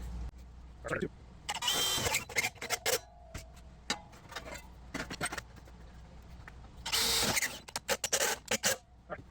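Cordless drill with a step bit cutting holes during a Chevy van to International Loadstar chassis swap, several short bursts of whirring and grinding separated by pauses, with talking in between.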